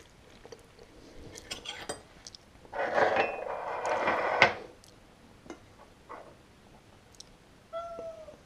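A cat's drawn-out meow, fairly close, followed by a few soft clinks and small household sounds, with a short higher cry near the end.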